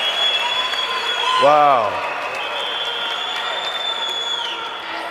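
An audience at a speaking event in Rome applauds and cheers. The dense clapping and crowd noise holds steady throughout, and one voice briefly exclaims partway through.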